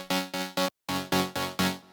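Serum synth's Lead Dynamics preset heard without its gritty layer in a tech house lead: a bright, harmonically rich pattern of short, evenly paced stabs, three notes, a brief gap, then four more, played alone and fairly loud.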